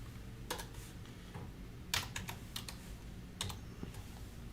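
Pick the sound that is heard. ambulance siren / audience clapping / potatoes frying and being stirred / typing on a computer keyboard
typing on a computer keyboard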